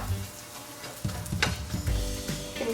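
Chopped onion sizzles in a hot pot for a squash omelet, a steady close crackle and hiss with a few louder spits and stirring clatters.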